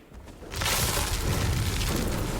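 A rocket explosion in Fortnite bursts with a loud, broad boom after a half-second lull, followed by a sustained rumbling roar that lingers to the end.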